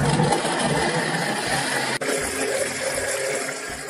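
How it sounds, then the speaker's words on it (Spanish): A kitchen blender whirs continuously as it purees banana, milk and water, a loud, steady motor drone with a slight dip midway. "y lo vamos a licuar."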